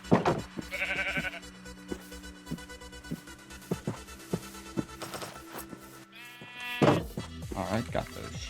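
Sheep bleating in a hardcore survival game, several distinct bleats scattered across the stretch, louder near the end, over quiet background music with someone talking intermittently.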